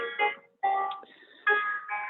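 A mobile phone ringtone plays a short electronic melody of bright, clear tones in three bursts separated by brief gaps, fairly close and standing alone without any voices.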